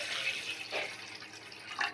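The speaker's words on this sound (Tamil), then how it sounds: "கொஞ்சம் தண்ணி ஊற்றிக்கலாம்," Water pours into a pot on a gas stove for soft chapathi dough, a soft, close, uneven trickle with small splashy surges, fairly faint.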